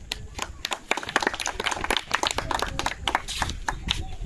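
Quiz contest audience clapping, a brisk patter of individual hand claps from a modest group, loud and uneven with sharp separate strikes.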